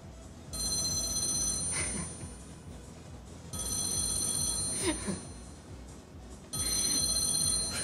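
An outgoing phone call rings out unanswered: three repeated electronic ringback bursts, each about two seconds long with pauses between, heard clearly over faint room noise.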